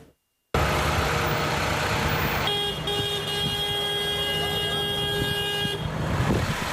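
Road convoy of farmers' protest tractors and cars passing, a continuous loud engine and traffic rumble with a sustained car horn tone held for several seconds.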